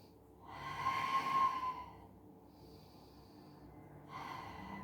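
Breath of fire yoga breathing during a neck and back care session: forceful nasal breaths in a long exhaling burst, a pause, then another, close and fairly soft.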